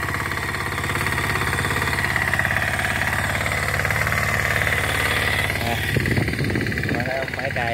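Yanmar L50 diesel tiller engine chugging steadily and loudly throughout while ploughing ginger fields, with some clatter toward the end.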